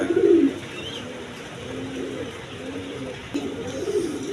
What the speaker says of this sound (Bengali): এখানে এক পেয়ার গিরিবাস কবুতর আছে দেখেন হাই ফ্লাইং গিরিবাস কবুতর